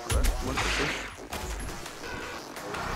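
Heavy weapon fire in the shooter Doom Eternal, a loud burst of booming shots and crashing impacts up front, followed by rumbling blasts and lingering combat noise.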